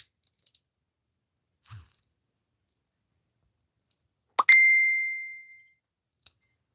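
A phone notification gives a single bright ding that rings out and fades over about a second, with a few scattered light clicks before it in an otherwise quiet room during a live stream.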